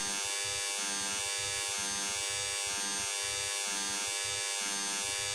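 Quantization noise left after subtracting a higher-bit sine wave from an 8-bit version, a steady buzzy, gritty hiss with a rapid pulsing hum underneath, continuous and fairly loud with no talking.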